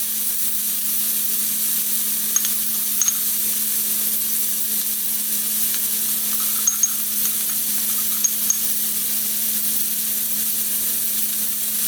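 Fresh ginger and other pumpkin soup ingredients sizzle steadily in a frying pan, a constant close hiss of frying with a few faint clinks of a utensil; no talking.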